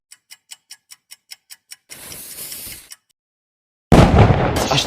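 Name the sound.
firecrackers exploding, animated film sound effect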